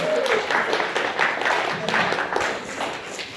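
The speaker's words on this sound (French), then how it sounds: "Est-ce qu'on peut applaudir le Seigneur" Congregation at a church service applauding, a dense continuous wash of many hands clapping at steady loudness, with a brief voice audible early on.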